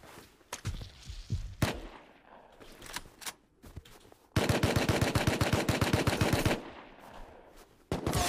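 Gunfire in the survival game Rust: scattered single shots and short bursts, then a long, loud automatic volley of rapid, evenly spaced rounds that stops abruptly, with one more shot at the end.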